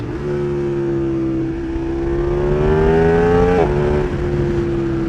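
KTM 1390 Super Duke R Evo motorcycle downshifting on approach to a corner: a loud, close engine note holds steady and rises slightly, then jumps with a blip of revs at the shift before settling back down.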